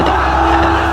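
A large audience at a Bangla religious sermon shouts back in unison, one loud sustained roar of many voices close and dense across the whole moment.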